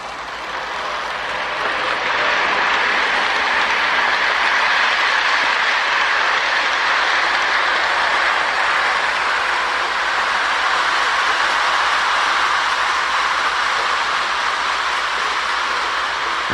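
A heavy Marx 21 diesel toy locomotive with traction tires pulling a string of cars, giving a continuous loud whirring rumble that builds quickly and stays steady throughout.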